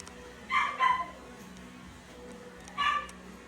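A dog at a pet grooming salon gives two short, faint yips close together, then another a couple of seconds later, small high-pitched barks over quiet room background.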